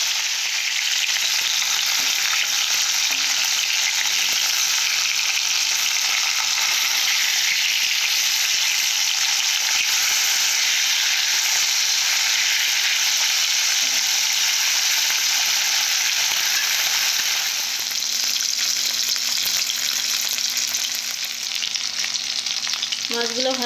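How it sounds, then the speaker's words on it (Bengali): Fish pieces frying in a wok give a loud, continuous close-up sizzle that holds steady throughout, with a few faint utensil taps near the end. "মাছগুলোকে খুব সুন্দর করে ভেজে নেব। এক পিঠ হয়ে গেছে, আর এক পিঠে উঠিয়ে দেবো।"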